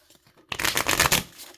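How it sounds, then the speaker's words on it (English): A tarot deck is riffle shuffled once up close, a quick papery flutter of rapid clicks lasting under a second. "It riffle shuffles quite nicely."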